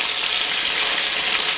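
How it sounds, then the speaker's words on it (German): Beef roulade skewers sear loudly in a hot Dutch oven, a dense steady sizzle of frying meat filling the whole moment without pause. "geben wir jetzt hier maximal 4 Spieße rein und peu à peu werden wir das alles hier anbraten"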